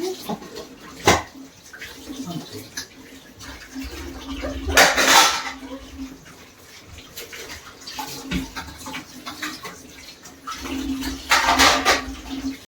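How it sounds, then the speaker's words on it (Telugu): Dishes and bowls are washed in a kitchen sink under running tap water, with repeated clinks and clatters of crockery and cutlery, louder bursts of splashing water, and occasional faint voices. "కొన్ని గిన్నెలు ఉంటే ఇంకా అవి కూడా వాష్ చేసుకుంటున్నానండి"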